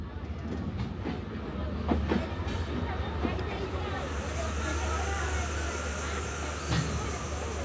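A passenger train on the Jashore route pulls to a stop at Kotchandpur railway station, giving a steady low rumble with occasional metallic clanks and a soft murmur of voices in the carriage.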